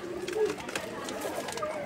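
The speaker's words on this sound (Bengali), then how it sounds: "দেখাচ্ছি আরও এক জোড়া কবুতর, এটাও আকাশি কালার" Sky-blue pigeons kept in pairs coo softly in a short, low, murmuring stretch.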